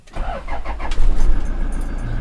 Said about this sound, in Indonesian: Yuk kita nyalain ya engine-nya.